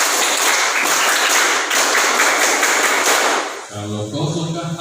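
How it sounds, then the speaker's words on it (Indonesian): Scout gathering audience performing the tepuk pramuka rhythmic clap, a burst of sharp patterned claps from many people, then breaking off into music and talk near the end. "Tepuk pramuka."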